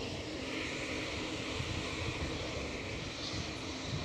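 A United airliner lines up on the runway at Edinburgh Airport, and its jet engines make a steady, moderately distant roar and broad whine that holds at an even level throughout, with no voices.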